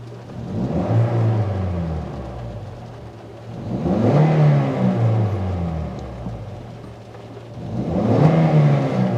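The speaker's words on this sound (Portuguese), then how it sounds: "Acho que pelo vídeo deve estar dando para escutar ele acelerando." Warm Toyota Corolla engine revving in three separate bursts, each rising and falling, with steady idle between; close and fairly loud, no talk.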